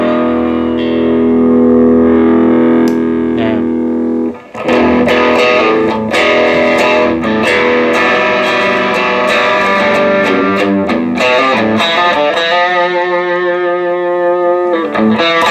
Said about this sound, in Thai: ถ้าเป็นซิงเกิลคอยนี้นะครับผมนะซาวของพี่หมูจะแบบเนื้อใหญ่ๆหน่อยนะครับ